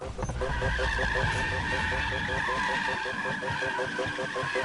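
Tires skid and squeal continuously as a car drifts in the Need for Speed (2015) racing game, a steady loud screech over engine roar throughout, with a voice talking over it.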